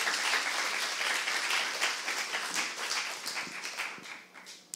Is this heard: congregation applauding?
yes